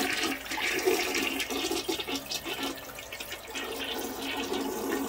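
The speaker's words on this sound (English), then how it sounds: "Let's flush it again." A toilet flushes while it is being unclogged with an auger, giving a steady, loud rush of swirling water that runs throughout with no speech.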